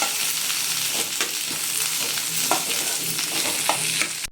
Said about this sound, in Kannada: ಒಂದು ನಿಂಬೆಹಣ್ಣಿನ ಗಾತ್ರದಷ್ಟು ಹುಣಸೆಹಣ್ಣು ಇದರಲ್ಲಿ ಫ್ರೈ ಆಗುತ್ತೆ